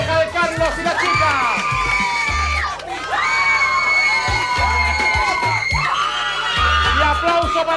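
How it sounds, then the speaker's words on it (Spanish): A lively bachelorette party crowd cheers, whoops and shouts in loud overlapping bursts over booming party music with a steady beat, with clapping buried under the noise. "¡Aplauso para la primera pareja de Carlos y la chica!"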